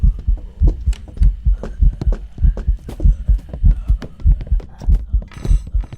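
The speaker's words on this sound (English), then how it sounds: "I think I hear the ghost hunting down there." Ghost hunting in the Phasmophobia video game, with a steady run of heavy, thudding footsteps pounding in a regular rhythm nearby, loud and menacing, with no talk.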